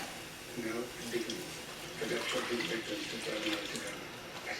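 Milk pours steadily into a pan for cheese scalloped potatoes, a soft continuous liquid stream close by, with a voice speaking faintly underneath.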